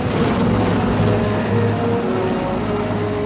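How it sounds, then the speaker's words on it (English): A large CH-53 military transport helicopter runs close by, its deep rotor and engine drone forming a loud, steady wash of noise throughout with no pause. "leaping in this big CH-53 helicopter, huge thing"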